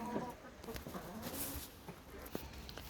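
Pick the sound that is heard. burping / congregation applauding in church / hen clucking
hen clucking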